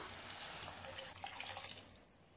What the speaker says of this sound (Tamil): இது கூட நம்ம அரிசி கலைஞ்சி வச்சுருக்க தண்ணி சேர்த்துடலாம்